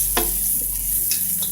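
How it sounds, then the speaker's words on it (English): Celery, garlic and onions caramelizing with brown sugar and a little water in a pan give a soft steady sizzle, with a few brief scraping stirs and no talk. "And I'm stirring this"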